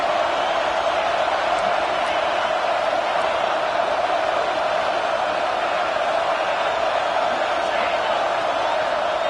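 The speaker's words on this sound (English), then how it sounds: "This crowd, full throat, splitting the eardrums and letting them know it's going to be a long day." A stadium crowd in a college football video game, set at Michigan, roars in a dense, unbroken wall of noise that stays loud and constant throughout.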